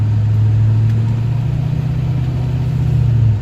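An LBZ Duramax diesel engine with an MBRP turbo-back exhaust runs steadily nearby, a loud, even, low rumble with a slight rise partway through and no talk.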